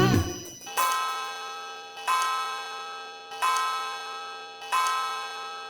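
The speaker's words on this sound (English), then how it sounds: "The clock struck 4." Cartoon clock in a nursery-rhyme scene striking four, with four evenly spaced bright chime strokes, each ringing out and decaying over a steady tick, clear and close with no talk.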